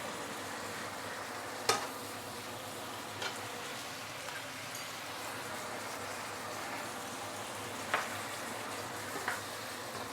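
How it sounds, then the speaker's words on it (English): Pork and green chili stir-frying in a pan, a steady soft sizzle throughout with a few faint clinks of a utensil against the pan. "Stir fry pork with green chili"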